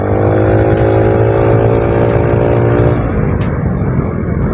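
A Mio Sporty motorcycle with an all-stock engine drones loudly and steadily close by, its pitch holding before shifting slightly as the ride continues.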